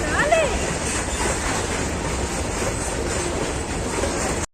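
A train runs along a railway line close by, a loud continuous roar with rhythmic wheel clatter and a brief high squeal near the start, steady until the sound cuts off abruptly.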